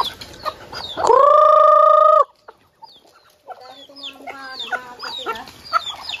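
A hen gives a loud, drawn-out cackling call, followed by softer scattered clucks and chirps from several chickens nearby.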